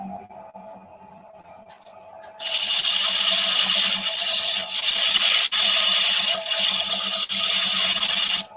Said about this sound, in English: I'm going to grab a new little length of 150 because it's going to have to rip through that sanding sealer